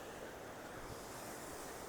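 Sea waves on the beach at Digha at dawn, a steady, dense roar of surf with wind noise across the microphone, continuous and fairly close.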